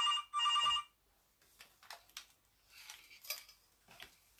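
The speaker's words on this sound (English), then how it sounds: "I wonder who's ringing me." Two short bursts of a telephone ringing, close and clear, followed by quieter clattering of dishes and cutlery.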